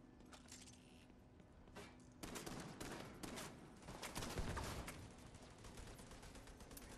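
Gunfire in The Division 2 crackles in dense, overlapping bursts of rifle shots over a steady ambient rumble, growing louder and busier midway through, with scattered sharp cracks throughout.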